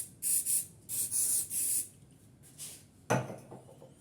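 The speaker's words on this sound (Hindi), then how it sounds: "जब यहाँ तक पहुँचूंगी तो मैं स्प्रे लूँगी" A can of hairspray is sprayed onto a styled updo in a beauty salon, with several close, loud hissing bursts of varying length, followed by a sharp clatter as something is set down.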